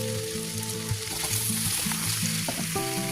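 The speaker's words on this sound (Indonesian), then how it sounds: "Kalau sudah matang, masukin kikilnya ya bun." Beef trotter skin is added to spice paste frying in a pan, giving a steady, close sizzle with light stirring under a constant humming background.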